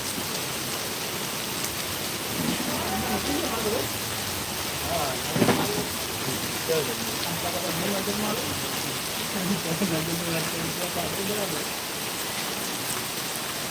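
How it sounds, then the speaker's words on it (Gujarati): Steady heavy rain pours down in a dense hiss over Panthawada, with a brief louder rumble midway and faint voices underneath. "આજે પાંથાવાડામાં વરસાદ વરસી રહ્યો છે"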